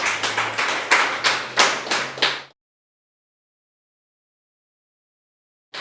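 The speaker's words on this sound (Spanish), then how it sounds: "Démosle un fuerte aplauso a nuestro Dios," A congregation at a church service claps in a steady rhythm, about eight loud beats in a row, over a low sustained hum, then stops abruptly into silence.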